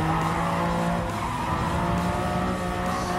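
A Lamborghini in Gran Turismo 7 accelerating flat out through the gears: a steady, loud engine roar with tire noise, held continuously without a break.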